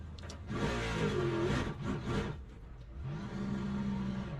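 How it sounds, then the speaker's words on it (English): A race car in a racing video game pulls out of the pit box. The engine rumbles, then revs up hard in a loud, aggressive surge, dips briefly and climbs again, close and without speech. "this car sounds so aggressive coming out of the pit box"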